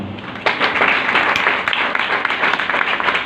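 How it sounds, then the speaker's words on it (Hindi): Loud, vigorous applause from a congregation at a gospel church service in Rawalpindi, a thick, close burst of many hands clapping that swells and keeps going. "जोरदार तालियां।"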